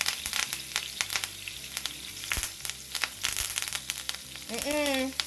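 Vegan butter melts and sizzles in a hot pan, a steady crackling fry with scattered pops and utensil clicks, fairly quiet, with a voice briefly heard near the end.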